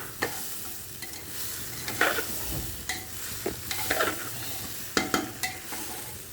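Khichuri frying in a pressure cooker while being stirred, with a steady low sizzle broken by scraping stirs and clinks of a spoon against the pot, close and fairly quiet with no talking.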